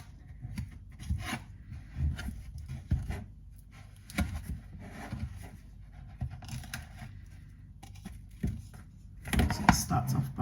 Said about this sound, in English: Start by cutting it into little bits and rubbing that into the flour